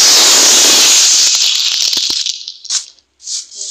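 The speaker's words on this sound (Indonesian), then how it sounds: "Ini pistol. Oke, kita akan tembak ke sana." A spider web gun fires in Minecraft, a loud bright rushing hiss that fades over about two seconds, followed by a few short sharp clicks and two brief hissing bursts, with no talk.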